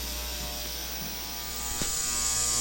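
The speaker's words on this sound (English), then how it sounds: "I'm going to go ahead and drop this head in the cleaner right here and let that cook with that." An ultrasonic cleaner hums steadily with a Toro string trimmer's engine head sitting in the tank, giving a constant electric buzz with a brief clunk near the end.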